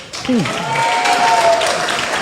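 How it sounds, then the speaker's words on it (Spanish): A church congregation applauds under a sung or spoken voice, the clapping a steady wash across the short stretch. "Y si lo cree, dale un fuerte aplauso."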